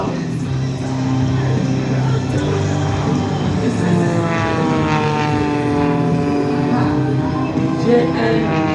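Propeller aerobatic plane performing a triple hammerhead at a Shellharbour NSW air show, its engine droning loudly and steadily with pitch sweeping up and down as it climbs and turns, nearby and dominant throughout.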